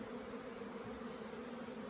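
Honey bees being shaken into a nursery box give off a steady, faint, even hum, continuous and unbroken for the whole short stretch.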